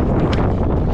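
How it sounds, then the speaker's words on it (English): Steady buffeting wind in Wales rumbles against the microphone for a second, a dense low roar with brief gusty surges and no voices. "Windy up there again then."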